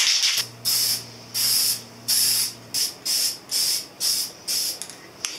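Spray paint goes onto the gas tank of a 1983 Honda CB1000 Custom motorcycle as a third coat, heard as eight short, loud hissing bursts from an aerosol can, close up and separated by brief pauses.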